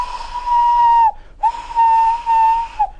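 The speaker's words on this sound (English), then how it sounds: "One day Thomas heard an engine whistling." A steam engine whistle sounds twice, each a loud, steady, sustained blast of about a second, separated by a short gap.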